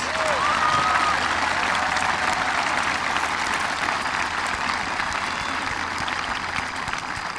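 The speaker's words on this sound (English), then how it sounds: "please give a big round of applause and congratulations to all of our local award scholarship winners" Graduation audience at a high school ceremony applauding local award scholarship winners, with dense, steady clapping filling the hall throughout and a faint whistle early on.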